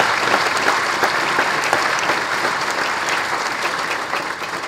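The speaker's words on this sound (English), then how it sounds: "Let's give her a round of applause" Dense, steady applause from a large audience at a formal investiture ceremony, filling the whole stretch at an even level and easing off slightly toward the end.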